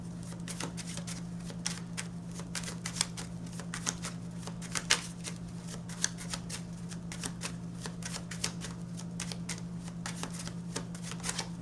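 A deck of tarot cards is shuffled close up, a continuous rapid riffling and flicking with frequent sharp snaps, alone over a steady low hum.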